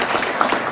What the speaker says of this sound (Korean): 큰 박수 주시겠습니다